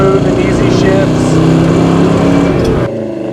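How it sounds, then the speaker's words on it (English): Big block V8 in a 1970 Ford Torino GT accelerating hard while driving, a loud, throaty, harmonic engine roar that holds steady under load before dropping off sharply as the throttle lifts near the end. "But it's a really good running big block, but it's not a 500 horse motor."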